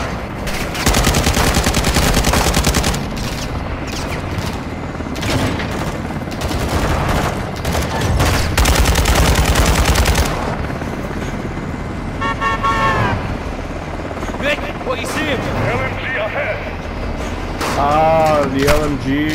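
Light machine gun fire in a video game, dense rapid bursts rattling loudly over several seconds, mixed with game effects and tones, with voices talking over the action.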